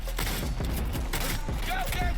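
Shotgun blasts from the video game Cyberpunk 2077, a few sharp booming shots spaced through a dense, noisy game soundscape with continuous action sounds around them.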